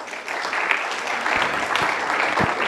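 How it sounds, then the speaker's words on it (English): Audience applause at a SAGE University program in Bhopal, a steady spread of clapping at moderate level that holds throughout, with a few sharper claps standing out. "Give him an applause."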